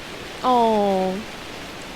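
Steady rain falls in the video game Shelter 2, a soft even hiss running through the whole moment while a person briefly exclaims over it.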